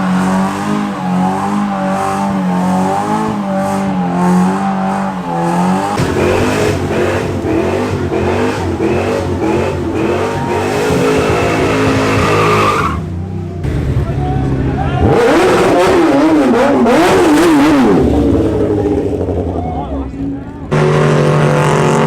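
A car does a burnout at an import car meet, its engine revving hard and tires spinning over a steady roar, with pitch rising and falling and brief dips in between.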